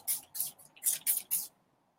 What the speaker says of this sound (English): So to actually spritz yourself, and then you can inhale that beautiful aroma.